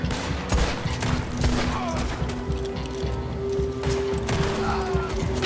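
Rapid bursts of gunfire crackle through a busy, dense mix of Red Dead Online game sounds, with sharp crashes and thuds scattered throughout.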